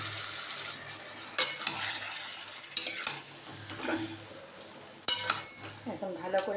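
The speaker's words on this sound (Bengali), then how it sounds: "পেঁয়াজটা লাল করে ভাজা হয়ে গেছে, এখন চিকেনটা ম্যারিনেট করা পুরো অ্যাড করে দেবো।" Marinated chicken is stirred into onions already fried red in a pan, a spatula scraping and clanking in bursts over a soft, steady sizzle, close and fairly quiet.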